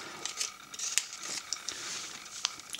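Scissors snip out a light, disposable ND filter made from taped layers for a GoPro on a DJI Phantom, giving a run of quick, close, crisp cuts and small rustles in a quiet room.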